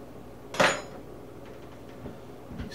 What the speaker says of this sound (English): I'm going to take our little spoon here, kind of clean out a little bit on the inside